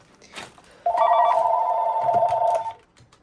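Telephone ring from a line on a 3CX phone system, a single sustained bright warbling tone lasting about two seconds, loud and close, with no talking.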